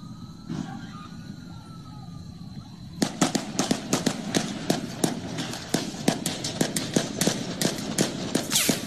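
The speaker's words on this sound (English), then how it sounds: "You're going to hear the bullets whiz by." Police shooting in Dallas: a rapid, irregular volley of sharp gunshot cracks begins after about three seconds of quieter background noise and continues loud and close to the end.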